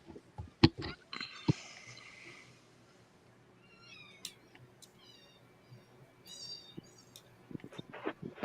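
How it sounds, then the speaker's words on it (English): A kitten mews in a few short, high-pitched calls, with a couple of sharp knocks early on and a quiet room hum underneath. "I can hear a kitten back there."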